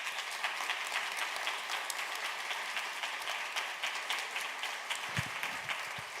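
Sustained audience applause for a Special Initiatives team at a presentation on justice for Black women, girls and femmes, steady and dense throughout with a few sharper claps near the end.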